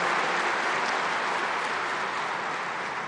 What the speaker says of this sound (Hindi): ताली बजा करके अभिवादन